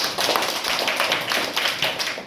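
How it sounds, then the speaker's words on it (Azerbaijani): A small audience at a classroom-style competition applauds in brisk, dense clapping that stays loud and close throughout a short burst, with no voices over it. "Afərin, alqışlar"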